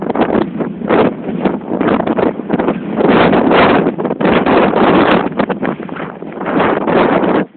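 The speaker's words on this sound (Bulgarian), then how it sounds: "Страхотни вятър." Strong wind buffets the microphone in loud, continuous gusts, roaring and rumbling without pause.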